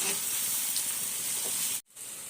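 Chicken frying in a pan gives a steady, fairly quiet hiss and sizzle throughout, cut by one brief dropout near the end before the sizzle resumes.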